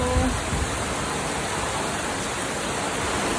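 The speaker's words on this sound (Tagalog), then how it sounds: "Grabe yung ulan." Heavy rain pours down in a dense, steady hiss, constant and loud with no pauses.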